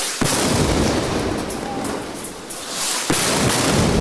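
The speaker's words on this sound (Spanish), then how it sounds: "Estas explosiones se han producido en el hospital de Al-Aqsa" A dense, loud roar of blasts and rumbling booms at Al-Aqsa hospital in Gaza fills the whole stretch, with sharp cracks standing out near the start and end.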